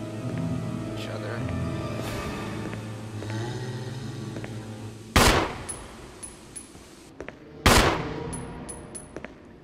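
Two loud, sharp gunshot bursts ring out in Resident Evil HD Remaster, spaced a few seconds apart, over a droning low game soundtrack.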